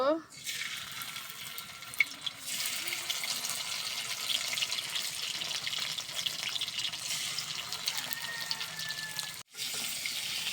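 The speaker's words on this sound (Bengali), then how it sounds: "এখানে তেলটা গরম হয়ে গেছে। এখন আমি এখানে মাছগুলো দিয়ে দিব।" A steady, loud sizzle of fish frying in hot oil, beginning with a burst and hissing continuously with a brief dip near the end.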